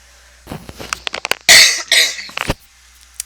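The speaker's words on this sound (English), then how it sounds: "I had a little bit of a coughing fit." A burst of harsh, close coughing, several rough hacks in quick succession with some throat clearing, loud and alone without speech.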